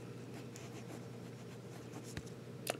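Fine steel nib of a plastic Popular Classic fountain pen scratching across paper, a soft continuous rasp with faint strokes and a couple of sharper ticks near the end, close and quiet.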